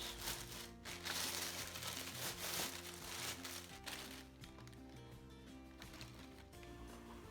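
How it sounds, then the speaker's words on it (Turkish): Packaging around a kettle being opened, a steady crinkling and rustling of wrap close by, louder in the first half and then softer, with no talking. "Şimdi paketi açalım beraber."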